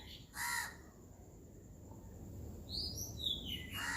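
Birds calling outdoors during birdwatching, a couple of harsh crow-like caws near the start and end with thin chirps between, moderately close over a quiet background.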